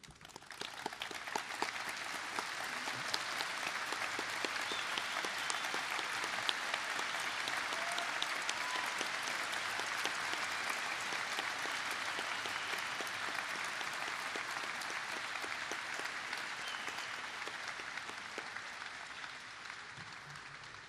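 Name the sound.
audience applause at a ceremony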